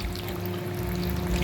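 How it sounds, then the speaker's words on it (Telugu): Water being added to a pot of cooking curry, a steady close pour that runs for the whole stretch, alone, with the faint hum of a kitchen under it and no speech. "ఇప్పుడు దీంట్లో ఇంకా కాస్త వాటర్ వేసేస్తున్నాను నేను"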